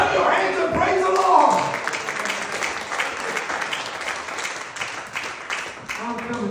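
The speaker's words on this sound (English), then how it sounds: "Clap your hands and praise the" A church congregation claps their hands in praise during a sermon, a thick, continuous patter of many hands, loudest early on and then settling, with voices mixed in beneath the clapping.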